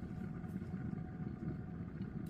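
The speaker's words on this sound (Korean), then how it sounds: "자, 이제 끓는 소리가 들리죠?" Soybean stew simmering in a covered pot gives off a low, steady bubbling rumble, faint and continuous, with no voices over it.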